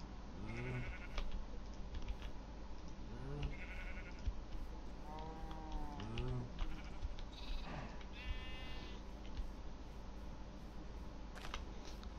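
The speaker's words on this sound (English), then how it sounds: "Lots of sheep." Sheep in the video game Minecraft bleat several times in short wavering calls, some overlapping, over a constant low game hum.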